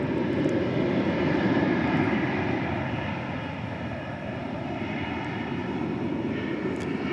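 American Airlines flight 525, a jet airliner on approach to land at DFW Airport, gives a continuous low rumbling engine roar, moderately loud and steady, easing slightly midway before building again.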